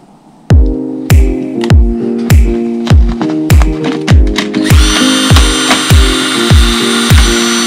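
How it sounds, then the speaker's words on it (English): Cordless drill driving or ratcheting near at hand in a rapid series of loud, evenly spaced clicks and clunks, about a dozen over several seconds, with a higher whine joining toward the end. "Handy tool, a cordless drill."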